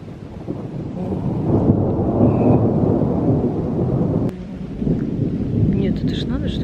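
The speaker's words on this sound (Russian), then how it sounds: "Сейчас гром как услышишь?" Thunder rolls and rumbles through a heavy rainstorm at a countryside dacha, loud and sustained over constant rain hiss, with a sharp crack near the end.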